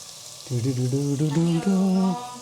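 Potatoes and tomato fry in a pan with a steady, soft sizzle that runs throughout, partly masked by a close voice talking over it.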